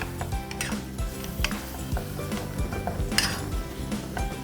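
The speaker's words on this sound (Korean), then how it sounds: "새우살을 넣어서 흰후추를 약간 넣어주세요. 그리고 새우살이 어느 정도 익을 때까지 볶아주십니다." Shrimp being stir-fried in melted butter in a pot for an asparagus and shrimp pot rice, with steady clinking and scraping of a utensil against the pot and faint sizzling throughout.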